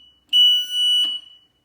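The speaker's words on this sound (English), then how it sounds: "And again, that alarm is very loud." An elevator panel's alarm sounds two loud, steady electronic tone bursts back to back, each under a second, alone with no talk.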